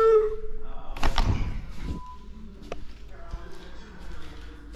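A heavy glass door, stiff and hard to close, is pushed shut inside a Johannesburg home, giving a dull thunk and a rumbling thud near the start, then a quieter knock and faint clatter as it settles.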